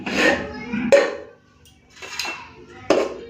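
Rice being served from a pot at home alongside a fish-oil vegetable chorchori: several sharp metallic scrapes and clinks of a serving spoon against the pot, close and moderately loud, separated by brief pauses.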